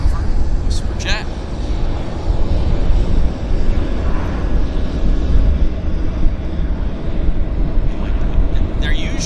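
An Avro RJ airliner, an older and somewhat underpowered four-engine jet, takes off from Vancouver, producing a broad, sustained roar with wind buffeting the microphone and a voice talking over it.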